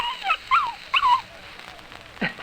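Several dogs in an old-time radio drama let out a few short, high whimpers and yips in quick bursts, then a low growl, nearby against a quiet background.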